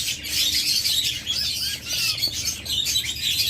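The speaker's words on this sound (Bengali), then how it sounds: "এখানে কিছু কিংকুয়েল দেখতেছেন এগুলো হলো বিশ দিন বয়স" Twenty-day-old king quail chicks chirp continuously, a dense chorus of high, thin peeps from a close group with no pauses.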